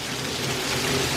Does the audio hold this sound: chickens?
no